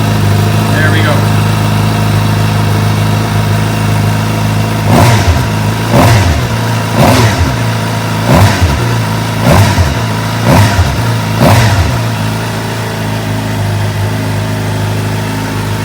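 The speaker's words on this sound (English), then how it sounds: "now we got the bike running. You can hear it." Suzuki GSXR motorcycle engine idling close by during a coolant flush, then revved in about six quick, evenly spaced blips before settling back to idle, with someone talking over it.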